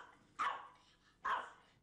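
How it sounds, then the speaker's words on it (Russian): A Pomeranian spitz gives two short, sharp barks about a second apart, close and clear with nothing else around them. "Чтобы поздороваться, Кримпет лает с легким оттенком превосходства"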